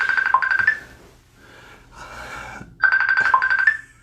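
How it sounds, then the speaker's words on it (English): A phone ringing with an incoming call: two bursts of a rapid electronic ringtone trill with a pause between, loud and close, over faint background noise. "we're getting phone calls already"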